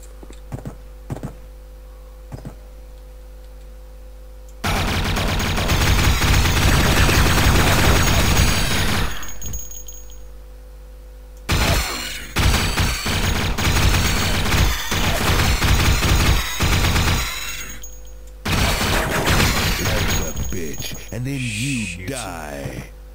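Gunfire and combat effects from the first-person shooter Duke Nukem 3D come in loud, dense bursts separated by quieter gaps, with game music and a voice chatting underneath.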